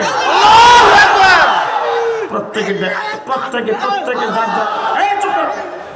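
A large crowd at a Muslim religious rally roars the slogan Nara-e-Takbir in unison, loud and massed at first, then settling into layered shouting voices that rise again toward the end.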